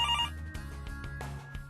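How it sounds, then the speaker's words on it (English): A desk telephone rings after a speed-dial call at an Air Force base: a brief electronic ring at the start, quickly buried under steady low humming noise. "grab the phone, call Brayton here. I got him on speed dial"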